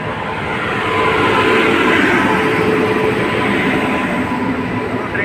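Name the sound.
train arriving at the station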